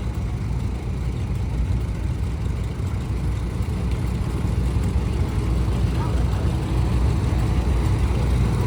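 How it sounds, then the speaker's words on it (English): A tractor rolls past in a small-town heritage weekend parade in Lanesville, Indiana, its low engine drone steady and close throughout, with faint crowd voices underneath. "Next tractor."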